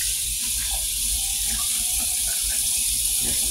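A tap runs steadily into a sink for hand washing, a constant close hiss of flowing water with faint soft splashing, no voices.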